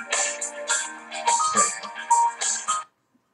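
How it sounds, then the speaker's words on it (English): A neighbor's mobile phone ringtone plays a bright, repeating melodic tune heard through the room, several bursts in steady rhythm before it cuts off abruptly into silence. "My neighbor's phone was ringing."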